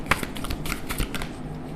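Tarot cards being shuffled and drawn for a reading, a soft flurry of close, quiet card flicks and slaps with a few sharper snaps.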